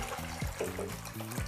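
Ice-cold water poured into a bowl in a home kitchen, a steady close trickle and splash lasting a second and a half.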